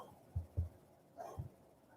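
A dog gives a few short, low, soft barks close by, two quick ones followed by a third after a pause, in a quiet indoor setting.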